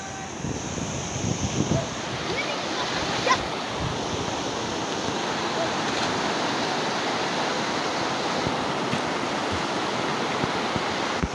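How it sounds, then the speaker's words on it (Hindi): A river rushes in a steady, loud, broadband wash while people bathe in it, with faint splashes and voices blending into the constant flow. "हम पहुंच चुके हैं नदी।"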